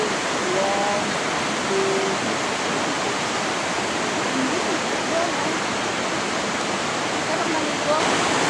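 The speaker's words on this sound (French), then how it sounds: "Des chutes ici." A waterfall in the woods pours in a steady, dense roar of falling water that holds unbroken throughout, loud and close, with a few faint bird chirps above it.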